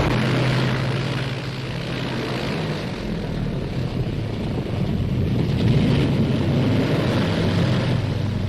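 A British WW2 bomber takes off, its propeller engines making a continuous, loud droning roar that swells slightly as the aircraft runs up and climbs away.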